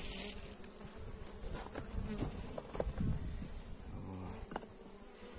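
Honeybees flying around their hives during the early-spring cleansing flight, a steady buzzing swarm hum that fills the scene, close and continuous with a few louder passes of individual bees.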